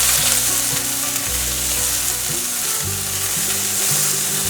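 Potatoes and beans are stir-fried quickly in a wok, a loud, dense sizzle running without a break, with rhythmic low scraping and tossing from the stirring throughout.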